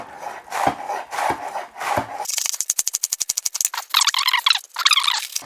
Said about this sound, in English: I'm just going to shred it quite finely.